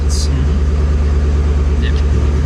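A 2011 Shelby GT500 with a whipple supercharger and Borla Atak exhaust, just the muffler with cats kept, idles with a loud deep throbbing burble, a brief hiss near the start, and people talking nearby.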